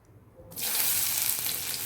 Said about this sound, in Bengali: যে রান্নাটি করব তাতে পেঁয়াজ দিয়ে দিলাম পেঁয়াজটা আমি বেশি ভাজা করব না একটু অল্প অল্প ভাজা করব